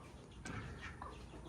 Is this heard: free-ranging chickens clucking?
yes